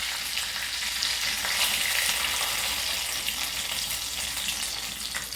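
Water poured into a hot tempering of sesame seeds and curry leaves sets off a loud, continuous hiss and sputter that stays strong throughout, then eases slightly near the end, with no talking.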